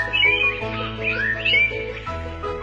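A songbird sings a short series of varied whistled and chirping phrases, fairly close and clear, with no voices.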